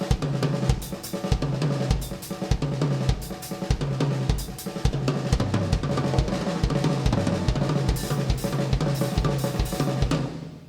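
A drum kit playing a fast, continuous run of six-stroke hand-and-foot combinations moving between drums and kick, loud and close, with no talking.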